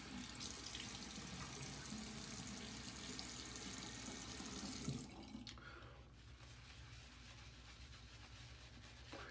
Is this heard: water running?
yes